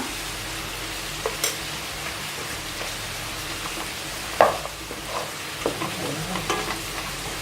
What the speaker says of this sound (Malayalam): ഇതിലേക്ക് ജിഞ്ചർ ഗാർലിക് ചില്ലിയും കൂടിയിട്ട് അരച്ച് വെച്ചിട്ടുള്ള പേസ്റ്റ് ഇട്ട് കൊടുക്കുക